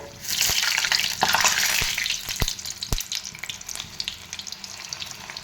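Pakodi dropped into hot oil, a dense sizzling hiss with a few sharp clicks and pops as pieces go in, loud at first then easing, close and with no talk.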